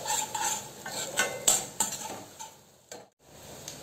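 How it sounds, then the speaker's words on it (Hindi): Onions fry in a pan for a Rajasthani besan gatte curry, with scraping stir strokes and light metallic clinks of a spoon coming close and clear over a soft background sizzle, pausing briefly near the end. "सबको अच्छे से भून लेते हैं, प्याज को हम अच्छे से भूनने देते हैं।"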